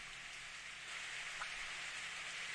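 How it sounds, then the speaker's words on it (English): Rain falls in the visual novel game Steins;Gate as a faint, even hiss that holds steady and keeps going, with no voices. "I suddenly heard the sound of rain."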